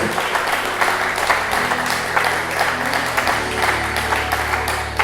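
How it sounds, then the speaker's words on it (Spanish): A church congregation applauds steadily, dense clapping sustained throughout with a faint hum of voices beneath. "Te damos, Señor, un fuerte aplauso"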